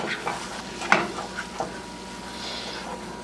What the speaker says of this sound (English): I'm just going to add the flour, and we're just going to whisk this in to make our roux.